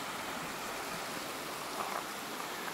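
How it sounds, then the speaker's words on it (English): Faint, steady rush of running stream water, an even broadband babble with no other sounds standing out. "Love the sound of the running water."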